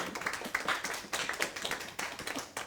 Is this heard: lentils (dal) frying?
no